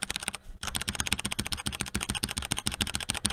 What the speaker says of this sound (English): Why do I know that's George's keyboard sound?